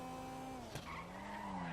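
A Blista Compact in a driving game braking hard for a red light, its tires squealing in a sustained whine over the engine hum, with a brief thump partway through.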